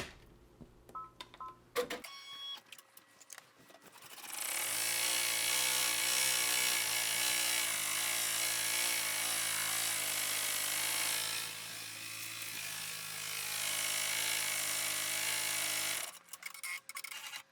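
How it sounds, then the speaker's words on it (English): An embroidery machine stitching and tacking down an apron piece runs with a steady, loud mechanical hum and whirr for about twelve seconds, briefly easing before resuming, with clicks at the start and end. "we're going to go ahead and stitch out and tack down the apron"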